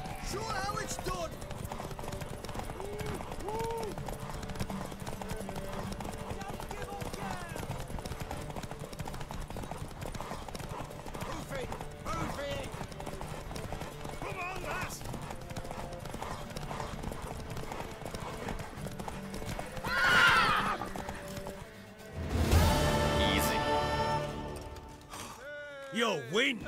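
Horse hooves clip-clopping at a steady rhythm in The Witcher 3 during a horse race, running under ongoing voices, followed by a horse's whinny and snorting near the end.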